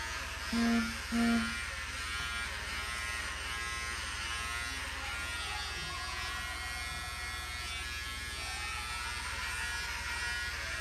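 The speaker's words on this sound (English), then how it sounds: "take 9 millimeter, and then we cut a little bit more." An electric hair clipper fitted with a 9 millimeter guard buzzes steadily while trimming a man's fade haircut, close and continuous, with a couple of brief tonal beeps near the start and no speech.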